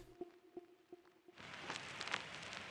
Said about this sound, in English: there is some vinyl noise playing